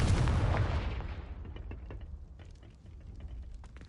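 A Confringo fire spell from Hogwarts Legacy detonates with a loud, booming explosive blast at the start, then rumbles and crackles away into a quieter tail of scattered debris pops.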